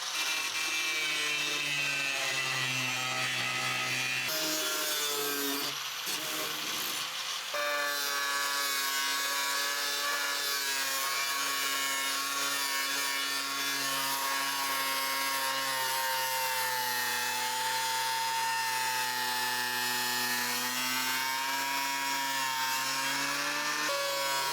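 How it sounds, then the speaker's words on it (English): An angle grinder cuts through the metal wall of a van, giving a loud, steady, sustained whine with a ringing metallic edge and a short break partway through. "we are using the angle grinder to get this last part of the van wall off"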